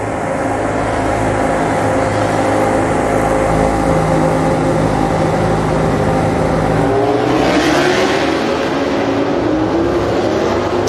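Pecco Bagnaia's MotoGP motorcycle on the sighting lap at the 2023 Argentina Grand Prix, heard as a loud, unbroken engine roar whose pitch rises and falls as the revs change, with no talking.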